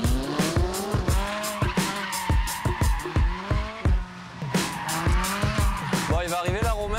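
A sports car drives hard on a race circuit near Salon-de-Provence. Loud, close engine revs rise and fall with repeated gear changes, and tires squeal through skids, with voices faintly underneath.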